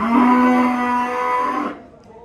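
A single cow moos once, loud and close, a long low bellow at a livestock market in Termez, Surkhandarya, with faint crowd noise behind it.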